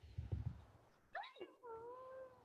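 A pet cat meows indoors: one rising and falling meow, then a longer drawn-out cry. A few low thuds and muffled noises come first, and someone speaks softly nearby.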